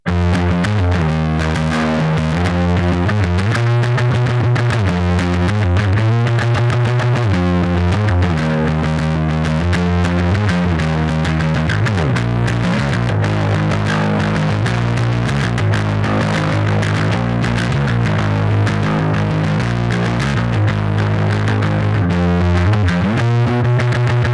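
A heavily distorted effects patch on a musician's instrument rig: a loud, continuous, throbbing wall of buzzing, humming tones with pulsing chorus-like modulation and shifting pitches, played alone for about twenty-four seconds.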